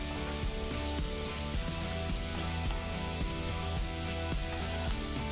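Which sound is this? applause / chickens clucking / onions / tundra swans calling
onions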